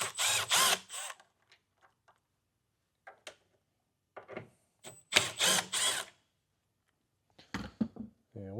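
A power driver removes two T15 Torx screws from a vehicle tail light. It comes in short, close whirring and ratcheting bursts separated by quiet gaps, with no speech.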